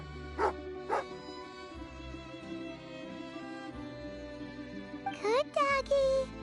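A dog in Genshin Impact gives a couple of short barks early on, followed by a few higher yips near the end, over light background music.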